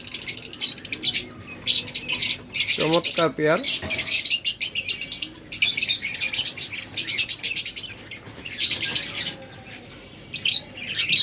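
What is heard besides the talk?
pet birds chirping, lovebirds and budgerigars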